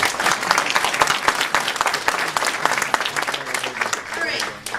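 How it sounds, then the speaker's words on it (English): A conference audience at the 2011 New England Real Estate Investors Conference bursts into sustained applause, dense overlapping claps filling the room steadily for several seconds before easing off at the end. "So please give them a round of applause."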